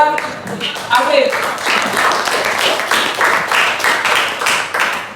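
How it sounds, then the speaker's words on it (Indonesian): Students in a classroom applaud a classmate, a steady burst of mixed close clapping from a group lasting several seconds, with a voice speaking briefly at the start. "Oke, berikan aplaus buat Afif."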